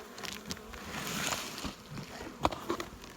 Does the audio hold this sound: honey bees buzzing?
yes